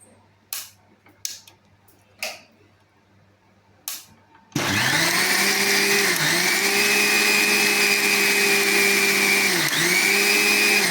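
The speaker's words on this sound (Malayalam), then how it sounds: "നമുക്ക് മിക്സിയിലൊന്ന് അടിച്ചെടുക്കാം നമ്മൾ ഉപയോഗിക്കുന്നത് സുജാത മിക്സിയാണ്" A three-year-old Sujata mixer grinder runs loudly and steadily, its motor a sustained whine with a slight dip in pitch now and then, after a few sharp clicks and knocks from setting it up; no one speaks.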